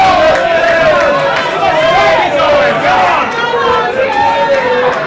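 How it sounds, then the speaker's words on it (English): A rugby crowd at a Gibraltar versus Jamaica match rises and cheers for Gibraltar, a sustained loud roar of many voices with rising shouts and a commentator talking over it. "The crowd are getting on their feet, getting behind Gibraltar to cheer them."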